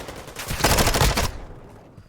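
A loud, dense burst of rapid gunfire in Call of Duty during a college esports match, lasting about a second before the reverberant tail fades out.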